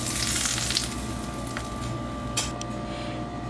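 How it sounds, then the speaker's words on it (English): Hot oil sprinkled over dalda, an Afghan bulgur dish, sets off a steady close sizzle and crackle that holds for the full stretch, with a few sharper spits partway through. "So you need to sprinkle about 2 tablespoons of hot oil."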